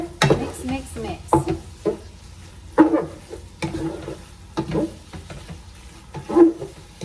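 A spoon stirs cabbage soup ingredients browning in a pot, giving irregular scraping and clattering strokes with quieter sizzling between them and a little faint talk.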